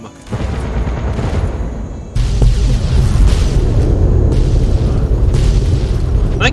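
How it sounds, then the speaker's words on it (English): Explosions in Fallout 3: a loud boom lands at once, then a bigger blast after a couple of seconds, leaving a thick, sustained roar of debris and rumble that stays loud to the end. "3, 2, 1, kaboom!"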